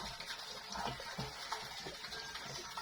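Water from a clay jar on a farm pours and splashes quietly for watering, a soft continuous trickle with little else around it.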